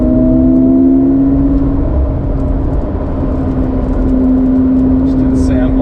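A McLaren's engine revs on a rally drive while its turbo spools up, heard as a loud, steady engine drone with a rising whine inside the car as a person talks over it.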